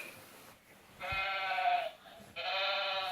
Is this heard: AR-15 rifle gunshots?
no